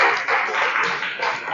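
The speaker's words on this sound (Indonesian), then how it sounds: "Tepuk tangan untuk teman-temannya" A group of students in a classroom applaud after presentations, a dense burst of clapping heard close and fairly loud.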